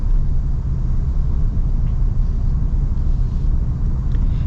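A 2026 Toyota Tundra TRD Pro, a body-on-frame pickup with a solid rear axle, pulls along a road with a steady, loud, low engine and road rumble that carries on unbroken throughout.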